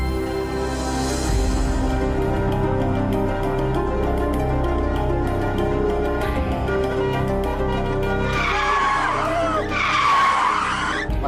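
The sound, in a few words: speeding car skidding, tires squealing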